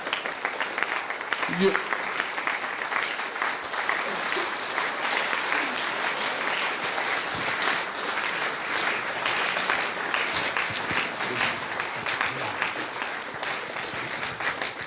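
Audience applause for Aniko Kozic at the closing ceremony of the 32nd World Puzzle Championship in Eger, Hungary: continuous, fairly loud clapping filling the hall, with a few voices faintly mixed in.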